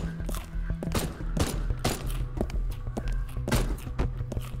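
Gunfire in the video game Haydee, a series of sharp shots fired one after another at an irregular pace, loud and close, set over a low steady game hum and some footstep-like thuds.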